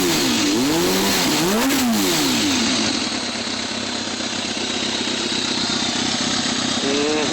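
A 2001 Kawasaki ZRX1200 motorcycle engine runs loud and close, rising and falling through a couple of revs early on before settling into a steady, strong drone.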